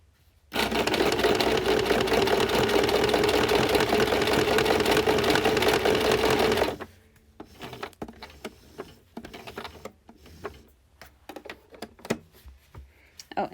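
A sewing machine stitches fabric for a costume belt, running in one loud steady burst for about six seconds, then stopping and giving way to quieter handling noises and small clicks.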